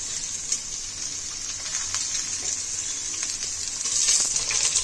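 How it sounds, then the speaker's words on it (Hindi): Onions fry with cumin, cloves, black pepper, dried red chilies and garam masala for a jackfruit curry. A steady, close hiss of sizzling fills the clip and swells a little louder near the end, with no talk. "अब प्याज हम डाल दिए हैं सारा, अब इसको भूनेंगे थोड़ी देर तक"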